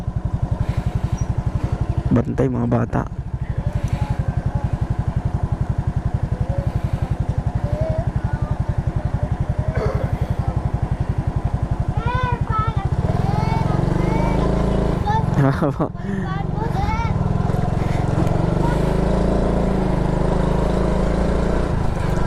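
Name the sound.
motorcycle riding on muddy road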